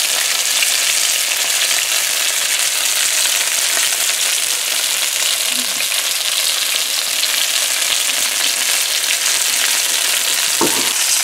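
Fish, red snapper, frying in a pan, giving a loud, steady, dense sizzle that runs unbroken throughout, close up and alone, with a faint clink or two near the end.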